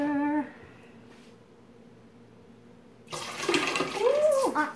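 Water poured into a cracked pouring pitcher for lemonade, a rushing gush that starts after a quiet pause and continues loudly, with a brief voice before it.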